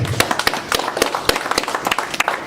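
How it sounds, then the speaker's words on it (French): Close, dense clapping from a small audience at a migrant solidarity evening in Strasbourg, brisk and continuous for the whole moment. "je vous prie d'applaudir sa visite, s'il vous plaît"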